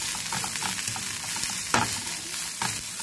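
Vegetables and chicken fry on a high flame in a pan for a quick crunchy salad, giving a steady loud sizzle with crackles and a few sharper spits of hot oil.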